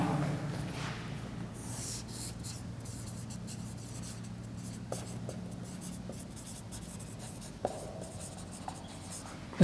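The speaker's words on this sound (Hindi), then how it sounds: "ढंग से लिख देता हूँ।" Chalk or marker writing on a board during a zoology lecture: continuous scratchy strokes with short pauses and light taps, close and moderately quiet, with no talking over it.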